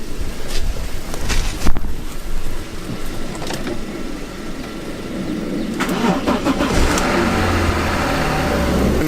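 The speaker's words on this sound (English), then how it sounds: "this car should start right now" A V6 car engine cranks and catches after a dead battery, then settles into a steady running rumble that grows slightly louder toward the end.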